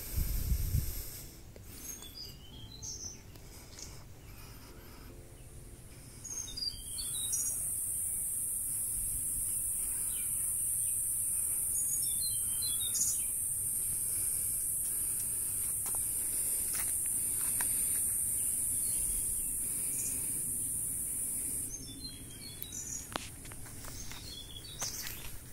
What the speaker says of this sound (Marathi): चिमण्यांचा आवाज ऐका.